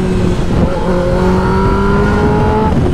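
A car engine revs hard and accelerates, a loud, continuous roar whose pitch climbs steadily, with no talking.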